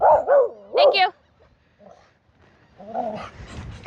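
A dog gives a few loud, close barks, then goes quiet before soft whimpering and whining follow.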